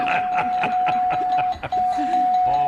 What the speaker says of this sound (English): What we got ourselves was a bell, and when that happens, that means that the game is over